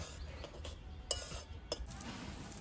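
A spoon stirs a home remedy of tulsi leaves and cloves in a small pot, a faint, quiet run of metallic clinks and scrapes with two brighter taps, close and without voices.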